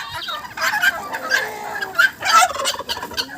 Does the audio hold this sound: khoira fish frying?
no